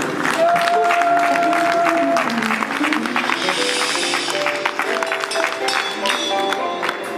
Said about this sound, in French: sur vos acclamations, nous encourageons le pasteur Kabongo